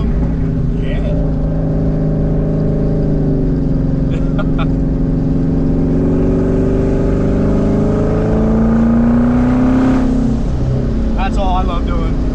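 A twin turbo Ford Mustang engine revs loudly and steadily up and down close by, its deep drone rising and falling throughout with a few brief higher whistles over the top.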